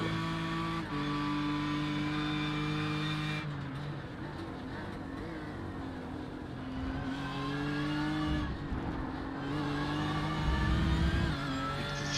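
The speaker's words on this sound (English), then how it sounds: "You can just hear the car, the tires" A BMW M4 GT3 race car runs at Road Atlanta in the iRacing sim game, its engine a steady, loud drone that shifts pitch through gear changes, with tire noise underneath and no talk.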